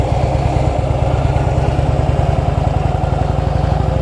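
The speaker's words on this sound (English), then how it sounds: "throttle up when you have your clutch in" A motorcycle engine idles and revs close by during clutch control practice, a steady, loud, throbbing putter with a fast rhythmic pulse throughout and no talking.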